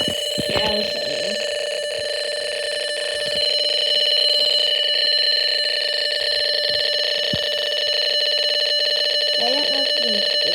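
A Snap Circuits fire alarm speaker sounding continuously with steady high-pitched electronic tones, buzzing alongside a struggling fan motor, with brief speech at the start and near the end.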